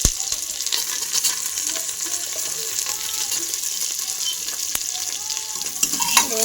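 Onion and peanuts fry in a pan with a loud, continuous sizzle, steady crackling throughout and occasional sharp pops and spatula scrapes close by.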